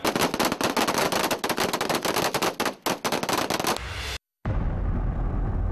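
Rapid bursts of ceremonial salute gunfire crackle loudly and continuously for several seconds, then stop abruptly and leave a hiss of background noise.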